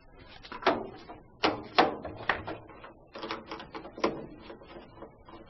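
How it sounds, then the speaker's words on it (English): Phillips screwdriver backing screws out of the base of a Whirlpool washing machine console: a series of dry, clicking and scraping mechanical bursts in irregular clusters, close and moderately loud, with no talking. "we must first use a regular Phillips head screwdriver to remove the screws at the base of the console."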